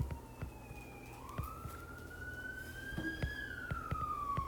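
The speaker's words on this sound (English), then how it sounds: "the ambulance came around the same time during 5th period, and it came out in the video" An emergency siren wails steadily outside, its pitch rising and falling as it passes at a distance, heard faintly behind intermittent taps and clicks in a classroom.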